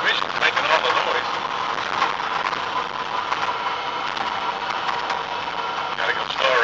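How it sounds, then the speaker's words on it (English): An electric 18-wheeler truck's transmission whines and hums steadily while driving, a constant mid-pitched drone with faint rattles, while someone talks over it. "Transmission's making all the noise."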